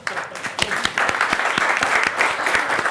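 Audience applause at a talk on generative AI, a dense bed of clapping with a few sharp, prominent individual claps standing out. The applause is fairly loud and builds slightly over a few seconds, with faint voices underneath.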